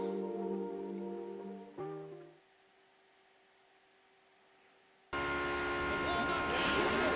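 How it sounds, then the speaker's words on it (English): Rain falls at the Imola circuit in San Marino in the Formula 1 98 racing game, a steady broadband hiss surging in loudly near the end after a quieter stretch of engine drone and tones. "It's raining in San Marino at Imola."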